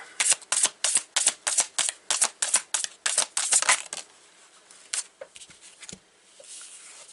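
A deck of oracle cards being shuffled up close, a rapid run of about a dozen crisp riffling bursts in steady rhythm, then a few slower, sparser card taps trailing off.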